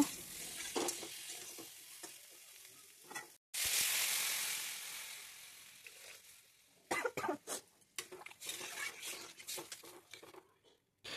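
Spice masala is stirred in a pan, with close scraping and sizzling in uneven bursts, a burst of loud frying partway through, and a cough heard among the sounds.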